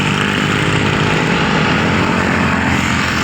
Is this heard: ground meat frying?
no